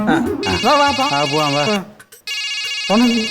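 A mobile phone ringtone plays a bright, repeating melodic tune, loud and close, cutting out briefly and then resuming.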